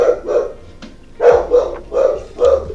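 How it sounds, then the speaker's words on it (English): A pet dog barks repeatedly indoors, a steady series of about five loud, close barks in quick rhythm with no talking over them. "I think I'm gonna have to close this door because of my doggy."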